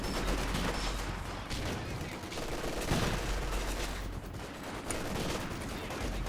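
Machine gun fire in Company of Heroes 2, a continuous dense clatter of battle gunfire filling the whole stretch, loud and busy with other combat noise.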